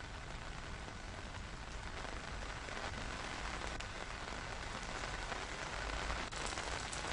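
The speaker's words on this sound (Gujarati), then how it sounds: "તાપીમાં ધોધમાર વરસાદ શરૂ થઈ ગયો છે." Heavy rain pours down steadily in Tapi district, Gujarat, a dense continuous hiss of drops hitting surfaces with no voices, holding at an even loudness throughout.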